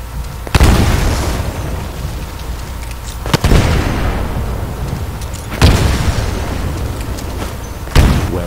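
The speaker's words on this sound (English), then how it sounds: "Throw a grenade into each of the windows." Four heavy grenade explosions in Titanfall, each a sharp loud boom with a long rumbling tail, spaced a few seconds apart at about 0.5, 3.3, 5.6 and 8 seconds.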